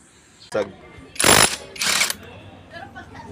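Pulley set and torque drive being pried off a Yamaha Mio M3 scooter, with a sharp metallic clack followed by two loud bursts of impact-wrench hammering, close by.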